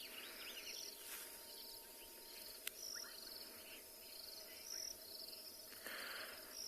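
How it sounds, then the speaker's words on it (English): Frogs calling after heavy rain in South Africa, a steady chorus of faint high chirps and trills with occasional louder bursts and one sharp click, distant and low in level. "And with all the rain, we've had a lot of frog activity around here."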